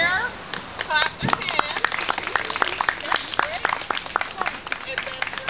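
An audience claps to vote for entrants at a best-of-breed judging event, with quick uneven bursts of individual claps from a modest crowd and voices talking over them.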